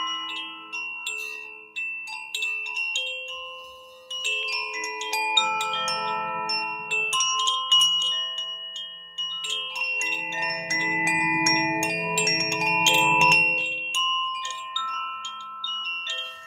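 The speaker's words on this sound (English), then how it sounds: "see if you can just by listening to this little bell" A small bell is struck several times during a sound healing session. Each clear, ringing tone sustains and slowly fades, with later strikes overlapping into a shimmering wash before fading out.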